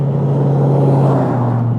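Steady, close scooter engine drone with a strong low hum holding constant throughout, loud and continuous with no break, in the Mojave Desert.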